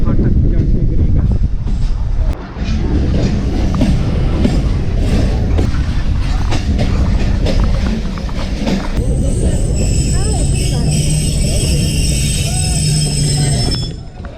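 A train rumbles past the Jhand railway crossing in a town, a steady loud roar with wind buffeting the microphone throughout, shifting to higher rattling and squealing tones near the end.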